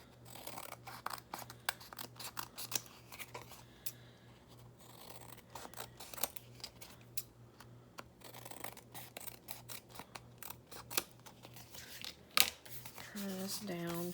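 Scissors trimming paper samples down to size, a run of sharp close snips and crisp paper rustles, some quick and clustered, with brief pauses between cuts.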